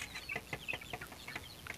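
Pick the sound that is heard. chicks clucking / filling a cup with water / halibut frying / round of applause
chicks clucking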